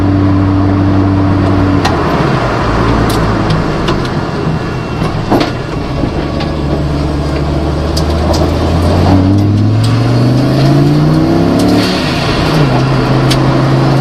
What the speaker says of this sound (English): Turbo sound is pretty cool.